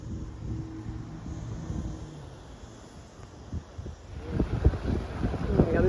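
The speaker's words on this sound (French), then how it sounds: "Ah, le petit vent qui fait du bien." Wind buffets the microphone on a high coastal clifftop walk in Portugal, a low rumbling gusting that swells and grows rougher toward the end.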